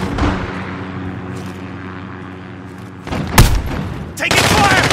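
Gunfire in the Call of Duty Modern Warfare multiplayer Drop Zone mode, a few sharp bursts and cracks standing out against a quieter game background, with a loud cluster near the middle and a noisy surge toward the end.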